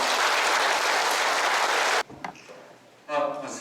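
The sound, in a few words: congregation applauding at a farewell mass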